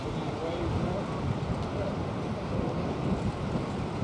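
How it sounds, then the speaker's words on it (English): Strong wind blowing outdoors by the water, a steady broadband roar with microphone buffeting that fills the whole stretch at an even loudness, with no one talking over it. "It's very windy here."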